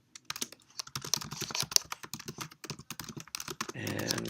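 Someone types code on a computer keyboard, a close, quick run of clicking keystrokes in uneven bursts, ending with a brief louder burst of clatter.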